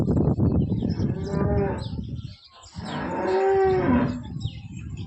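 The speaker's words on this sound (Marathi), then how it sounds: "प्युअर याच्या टॉप क्वालिटीची गाय" An HF cow moos twice nearby, each call long, loud and drawn out, with a short pause between them.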